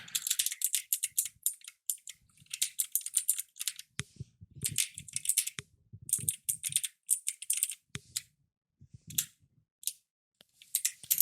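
Rapid typing on an American-layout keyboard in irregular bursts with short pauses, crisp clicking keys close by, with occasional heavier thuds mixed in.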